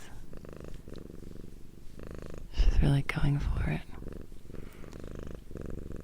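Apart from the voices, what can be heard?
cat purring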